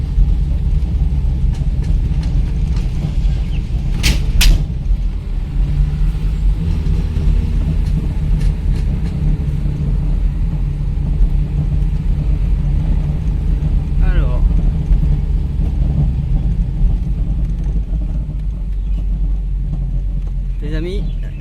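A car driving to drop off rubbish bags after a cleanup, a steady low engine and road rumble from inside the vehicle, with someone talking over it.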